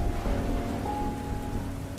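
Steady rain pours through a night jungle in a dense, constant hiss, with a low rumble suggesting distant thunder underneath.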